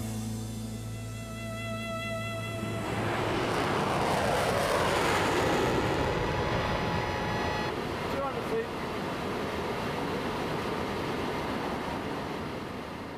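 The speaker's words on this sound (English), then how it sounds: "30 miles out from New York, the pilot lowers the nose cone ready for landing." Concorde, the supersonic airliner, approaching to land near New York with its nose cone lowered. The loud jet engine roar swells and sweeps past, then settles into a steady rumble.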